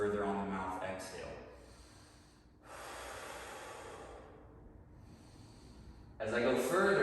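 Someone holds a knock-knee mobility stretch and breathes slowly, with long breathy exhales through the mouth in separate bursts and quiet gaps between them, near and clear.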